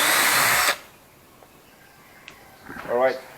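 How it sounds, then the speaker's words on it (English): Bosch GSR 180-LI cordless drill boring a hole through plywood: a loud, close whirring burst lasting under a second that stops abruptly, followed by quiet and someone speaking. "it quickly drilled the hole into the plywood"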